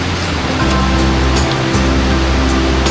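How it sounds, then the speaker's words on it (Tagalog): A river flows steadily beside a quiet campsite between Real, Quezon and Siniloan, Laguna, giving a continuous, fairly loud rushing wash of water with no voices over it. "Yung rinig mo yung aligas-gas ng tubig."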